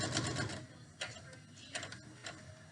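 A sewing machine stitches fabric for a face mask, a quiet, even run of mechanical ticking and whirring, with rhythmic clicks close by and no talking.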